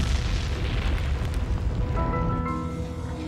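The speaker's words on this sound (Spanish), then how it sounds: "Las explosiones en la superficie del Sol provocan poderosas erupciones solares." A deep, sustained rumbling roar like a massive explosion, a solar eruption sound effect, heavy and continuous, with a faint tonal hum emerging toward the end.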